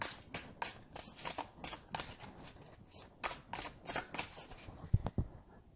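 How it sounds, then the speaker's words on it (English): A deck of tarot cards is shuffled in quick, repeated riffles and slaps, a rhythmic close-up flutter that pauses briefly before a final sharper tap. "Let me shuffle the cards and we'll get to it."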